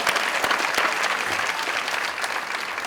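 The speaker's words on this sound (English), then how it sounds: "Can we give him a round of applause?" A crowd claps steadily for a few seconds, warm sustained applause filling a large room.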